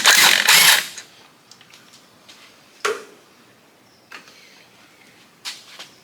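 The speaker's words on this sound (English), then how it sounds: "I'm going to go ahead and take the caliper off." Removing the 17 mm bolts from a Jeep WJ front brake caliper: a loud burst of air-tool or ratchet rattle at the start, then scattered metallic clicks, clanks and a sharp knock from the bolts and tools nearby.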